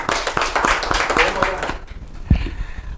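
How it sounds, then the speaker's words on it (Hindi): Audience at an interview event gives a burst of loud clapping, dense and fairly close, lasting under two seconds before fading into a quieter room with a low thump. "तो एक बार जोरदार तालियां हो जाएंगे लिए।"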